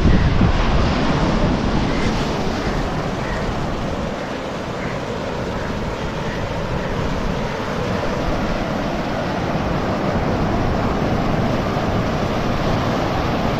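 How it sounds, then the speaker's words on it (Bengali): Ocean surf rolls onto the shore of Mousuni Island as the tide recedes, a continuous loud wash of breaking waves mixed with gusty wind buffeting the microphone. "জলের ঢেউয়ের শব্দ নিশ্চয়ই শুনতে পাচ্ছ।"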